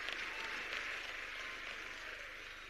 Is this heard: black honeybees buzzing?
no